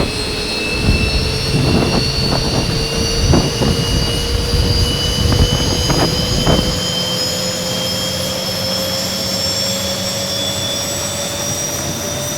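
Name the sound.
Boeing 737 jet engine spooling up at start, X-Plane 11 video game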